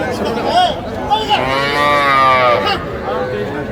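A crossbred bull calf at a cattle sale in Manikganj gives a single loud, drawn-out moo close by, with faint chatter in the background.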